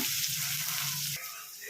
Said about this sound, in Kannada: ಕರಿಬೇವಿನ ಸೊಪ್ಪು, ಒಣಮೆಣ್ಸಿನ್ಕಾಯಿ ಹಾಕ್ತಾಯಿದ್ದೀನಿ. ಫ್ರೈ ಮಾಡ್ಕೊಳ್ಳೋಣ.